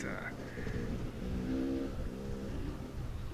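A car travels at about 40 miles an hour along a dirt road, its engine drone and road rumble steady and loud throughout while someone talks over it.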